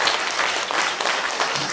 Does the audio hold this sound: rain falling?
no